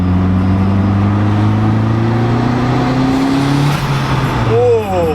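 A turbocharged Honda EG car accelerates hard in third gear, its engine note climbing steadily in pitch, loud and close from inside the cabin, then easing off near the end as the tone drops.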